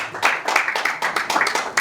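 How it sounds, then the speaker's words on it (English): Sparse, fairly close clapping from a small audience welcoming a panelist at a digital health panel discussion, individual hand claps distinctly audible in an uneven rhythm rather than a dense roar. "Please, a big round of applause for."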